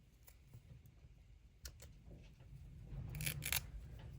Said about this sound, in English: you could just always give it a little snip